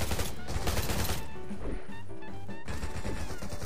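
Bomb blasts in the mobile zombie-and-robot survival game Garena Undawn, dense crashing booms with rattling gunfire-like bursts that fill the whole stretch, alongside game sounds.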